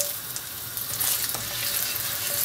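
Galangal root frying in hot oil for shrimp broodje kouseband, a steady close sizzle with a few sharp crackles and light spatters, gradually building slightly louder.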